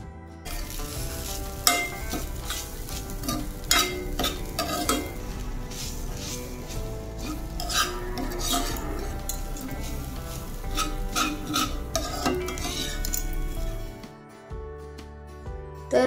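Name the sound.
roasting grated coconut in ghee in a kadai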